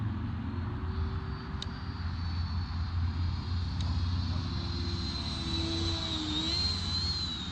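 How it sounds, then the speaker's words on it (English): An E-Flite Viper 70mm electric ducted-fan RC jet on landing approach, its steady high whine holding close and loud with a rising pitch sweep near the end, continuous throughout with no talk. "That means it's time to drop the gear, drop the flaps,"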